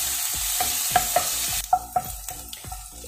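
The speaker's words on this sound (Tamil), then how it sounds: "ஆனியன் நல்லா கோல்டன் ப்ரௌன் ஆகிற வரைக்கும் நம்ம ஃப்ரை பண்ணணும்" Onions fried in hot oil in a pan until golden brown, a continuous sizzle broken by a rhythmic series of sharp scraping stirs from a spatula, close and clear with no talking.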